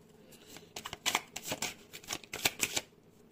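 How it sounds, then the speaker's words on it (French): Tarot cards being drawn and handled give off a flurry of crisp, quick paper flicks and slaps, irregular and close, with no voices. "Ok, on va aller prendre 3 cartes."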